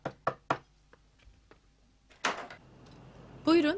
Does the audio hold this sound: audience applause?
no